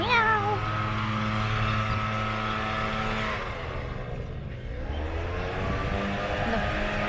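Cat meowing in a park area, a few mid-pitched meows early on against a steady background hum of traffic and a passing aircraft.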